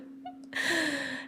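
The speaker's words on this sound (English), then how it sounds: "And here's my yawn." A person yawns during a relaxation exercise for nervous system support, a soft breathy intake swelling into a long, loud open-mouthed exhale lasting about a second, close and alone.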